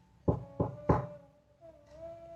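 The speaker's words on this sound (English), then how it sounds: "he mustered the courage and knocked at her door" Three sharp knocks on a door land in quick succession, close and fairly loud, followed by a faint sustained tone in an otherwise quiet room.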